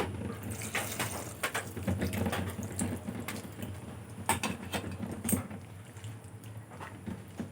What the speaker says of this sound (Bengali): এখন আমি মশলার বাটি দিয়ে কিছুটা জল দিয়ে দেব